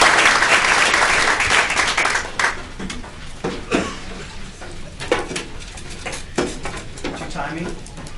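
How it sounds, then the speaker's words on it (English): An audience claps for student jazz musicians at a school board meeting. The applause is dense and steady at first, then thins into scattered claps while voices murmur. "how about one more round of applause for these students"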